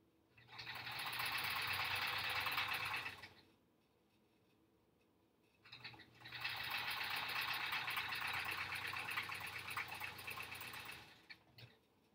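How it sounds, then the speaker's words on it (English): A sewing machine stitches a quilt block in two long, steady whirring runs of about three and five seconds, separated by a brief quiet pause, close and clear with no talking. "we'll just start sewing from up here"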